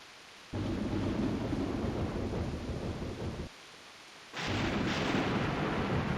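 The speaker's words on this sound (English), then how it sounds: "Yet the storm and rumblings only grew worse." A thunderstorm in the Grandia 2 game rumbles in two long, heavy bursts of deep roaring thunder separated by a brief quiet gap, loud and close, with no talk.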